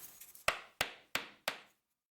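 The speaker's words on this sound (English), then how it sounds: "that ended up requiring a hammer" A hammer drives metal nuts into a makeshift bearing, giving four sharp, evenly spaced strikes close by, each with a short ringing decay and quiet between blows.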